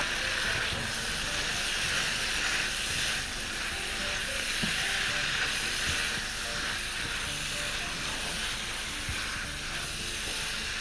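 Tomatoes hit a hot pan and sizzle loudly, a dense, continuous frying hiss with faint crackles, steady throughout and close to the microphone.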